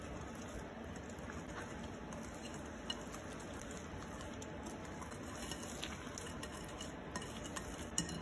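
Brownie mix being stirred in a bowl, a faint steady wet scraping and patter of the utensil, quiet and continuous with no talk.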